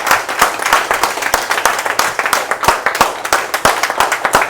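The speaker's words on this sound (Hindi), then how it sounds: "एक बार जोरदार तालियां हम सब लोग अपने लिए बजा सकते हैं" An audience at a motivational seminar claps loudly in dense, uneven applause, many hands striking close together with sharp individual claps standing out, sustained throughout.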